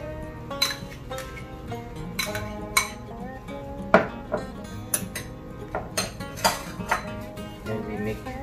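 Imitation crab meat salad being mixed in a bowl: repeated clinks and scrapes of a utensil against the dish, steady and close, while a person talks intermittently.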